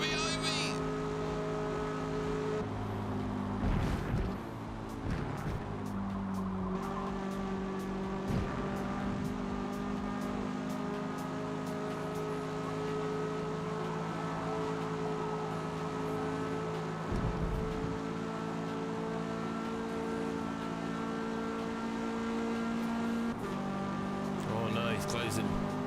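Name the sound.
car engines and tire squeal in a video game race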